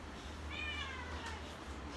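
A kitten meows once, a clear, rising-and-falling call at close range over a low steady hum, with faint voice sounds around it.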